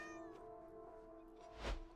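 A cat in the Burnhouse Lane video game meows in a long, drawn-out, harmonic cry, close and clear, followed by a soft thud.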